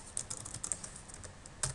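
Quick keystrokes on a computer keyboard while entering Visual Basic 2008 code, a rapid irregular run of soft clicks, close but quiet.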